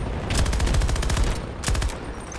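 Rapid automatic gunfire from a weapon in Battlefield 2042 rattles in two sustained bursts with a short gap between, loud and continuous, no voices.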